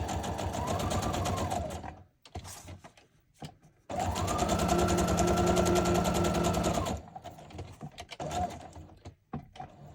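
Domestic sewing machine running a straight stitch in black thread on paper, whirring steadily in two long bursts separated by a short pause with small clicks and handling noises, close and fairly loud.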